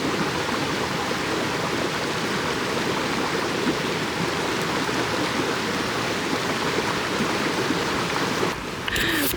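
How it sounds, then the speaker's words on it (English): A flowing stream rushes loud and steady on a waterfall hike, a broad continuous wash of water filling the whole stretch with no talk, briefly dipping near the end. "Well, not river, a stream."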